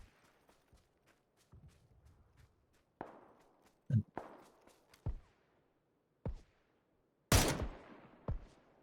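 VSS rifle fire in PUBG, a series of sharp, separated suppressed shots at irregular intervals, some near and loud, others fainter, with footsteps and quiet gaps between them.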